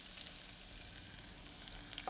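Finely chopped garlic sautés in hot oil in a kitchen pan, giving a soft, steady, continuous sizzle heard alone at low volume.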